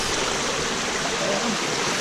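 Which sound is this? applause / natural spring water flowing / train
natural spring water flowing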